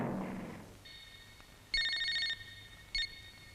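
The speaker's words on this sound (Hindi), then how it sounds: "हेलो, नागरा को फोन दे।" A telephone rings in two short electronic bursts, a longer ring followed by a brief second one, after some muffled voices at the start.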